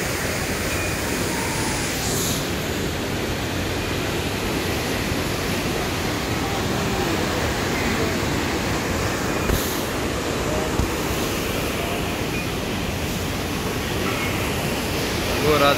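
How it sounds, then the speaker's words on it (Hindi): Water rushes in a steady, broadband roar at the Manikaran Gurudwara hot spring stream, continuing unbroken throughout, with only a few faint knocks over it. "आइए आपको पानी का बहाव दिखाते हैं।"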